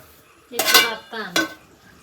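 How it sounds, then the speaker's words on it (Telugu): A mother-in-law stirring curry in a pot: two close scraping, rattling strokes of a spoon, each about half a second long, separated by a short pause. "అత్తమ్మ కూర చేస్తుంది"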